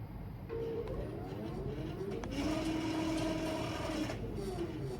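A QCT6 Pro computerized quilting system drives a sewing machine across a quilt, giving a steady mechanical whirr that speeds up and rises in pitch with gliding tonal sweeps, moderately close and without talk.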